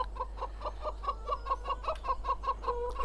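Chickens in the Farming Simulator 17 video game cluck in quick, repeated short bursts, a steady pecking rhythm of farmyard calls heard close and clear over a constant low hum.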